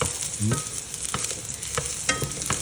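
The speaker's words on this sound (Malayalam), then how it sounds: "ആദ്യം ജസ്റ്റ് നമുക്ക് വെളുത്തുള്ളി ഇഞ്ചും പാടെ നന്നായിട്ടൊന്ന് മൂപ്പിച്ചെടുക്കാം" Garlic and ginger sauté in a hot pan, giving a continuous close sizzle broken by a few quick stirring scrapes.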